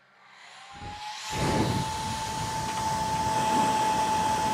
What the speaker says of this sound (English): I'm going to try using the blow dryer on the back and see if we can quickly get this high temp thing down